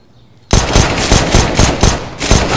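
Rapid automatic gunfire in Counter-Strike erupts suddenly after a quiet moment, a loud close burst of rattling shots with brief gaps in between.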